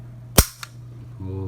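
One crisp, loud crack from an Umarex Beretta M9A3 CO2 airgun pistol, with a quick mechanical click just after, over a low steady hum, and a voice begins at the end.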